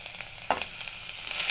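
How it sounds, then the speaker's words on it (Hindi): Chopped garlic and ginger dropped into hot oil for dal tadka, giving a sudden sharp sizzle that settles into a steady, close crackling fry. "तेल हमारे गर्म हो चुके हैं। अब हम इसमें डालेंगे लहसुन, अदरक चॉप किया हुआ।"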